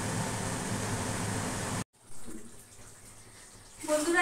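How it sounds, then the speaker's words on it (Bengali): Water is poured little by little into rice boiling for a Bengali muri ghanto, a loud, close rushing stream that stops abruptly, leaving quiet kitchen background and a faint rise of sound at the end. "তোমার চালটা ফুটতে যতটা যতটা জল লাগবে আমি অল্প অল্প করে দেব, একবারে দেব না।"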